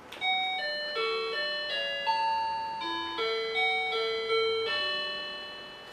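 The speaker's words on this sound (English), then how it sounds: "every sound must be pretty, so here's my doorbell." A Japanese apartment doorbell plays a bright, melodic chime: a sequence of clear, sustained bell-like tones stepping up and down in a cheerful tune, close and alone, with no voices.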